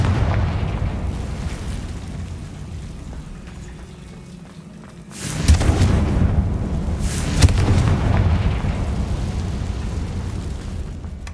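A fire-spell explosion in Hogwarts Legacy erupts as a sudden booming burst after a quiet stretch, followed by a second blast and a sustained rumbling roar, with no talk.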